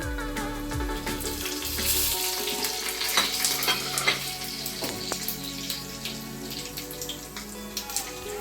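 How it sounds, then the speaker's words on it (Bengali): Whole cumin, dried chillies, cardamom and cinnamon tempering in hot oil make a loud, dense sizzle with sharp crackles and scraping stirs, close up and continuous. "এটা আমি একটু ফোড়ন দিয়ে দিচ্ছি।"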